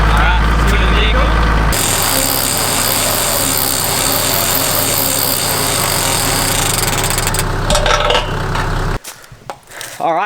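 A Warn high mount winch hauls roughly three tons of dead vehicle weight up a hill, giving a loud, steady mechanical whine and grinding drone that runs for about nine seconds before cutting off, leaving quieter handling noises.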